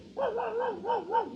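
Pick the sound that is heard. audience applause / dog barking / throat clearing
dog barking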